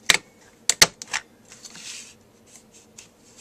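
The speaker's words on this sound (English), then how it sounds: "I'm going to take my Fisker's punch and just punch each side." Sharp clicks of a Fiskars paper punch cutting through cream cardstock, two quick crisp snaps near the start followed by a pair more, then soft paper handling and rustling at close range.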